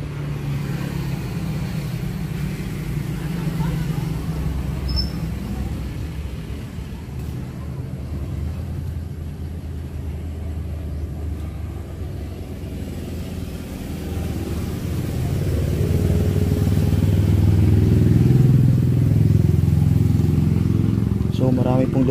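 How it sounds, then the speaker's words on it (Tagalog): Traffic on a road just below a cemetery in the Philippines, a steady low rumble of cars and motorcycles passing close by, swelling louder toward the end as a motorcycle engine drones past. "So marami pong dumadaan dyan guys sa ibaba mga idol, kasi malapit lang tayo sa may kalsada, no?"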